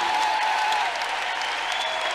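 A congregation at a prayer service applauds in praise, a steady, full burst of clapping from many hands that holds at the same level throughout.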